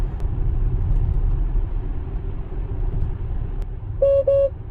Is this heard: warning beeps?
yes